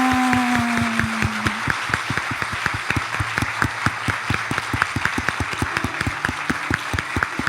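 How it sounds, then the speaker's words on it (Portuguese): In a municipal council chamber in Campo Largo, a crowd claps in a fast, steady unison rhythm of sharp, evenly spaced beats. The clapping is loud and close, and a brief tone sounds at the start. "uma salva de palmas para aqueles que são desta Casa de Povo"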